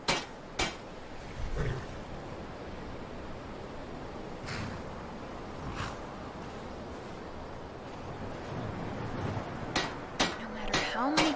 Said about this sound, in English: How many times I hammer this board, it still squeaks.